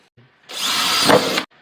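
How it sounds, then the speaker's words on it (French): An electric drill, or a twist bit fitted on an electric screwdriver, bores holes in one steady, loud whirring run of about a second, with no voices. "avec une perceuse électrique ou utilisez une mèche hélicoïdale installée sur un tournevis électrique"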